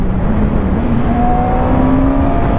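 A 2015 Yamaha R6 motorcycle with a quickshifter revs hard nearby, its loud, high-pitched engine whine holding at high rpm and climbing steadily across the short burst.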